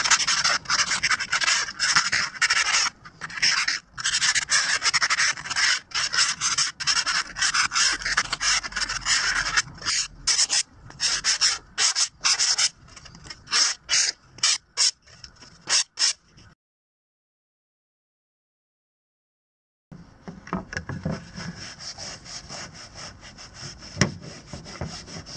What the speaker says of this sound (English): So time for a little sanding to break these edges in here